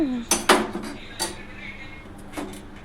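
A utensil scrapes and clanks against a pot as gongura chicken is stirred, giving several sharp metallic knocks in quick succession, then a quieter pause and one more clank.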